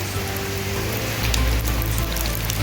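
Steady rain falls outdoors on a garden with freshly brought rose and gerbera plants, a dense even hiss with scattered drop patter and a low background rumble.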